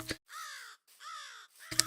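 Modded crow calls in the Minecraft video game: two drawn-out, harsh caws, fairly close and loud, bracketed by brief clicky noise at the start and end, with no talk.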